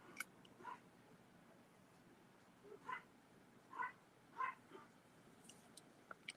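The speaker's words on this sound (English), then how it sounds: "Sorry if you can hear my dogs" Indoor dogs give a few faint, distant yips and whimpering barks in a house, scattered short bursts against quiet room noise.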